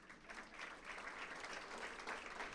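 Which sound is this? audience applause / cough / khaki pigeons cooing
audience applause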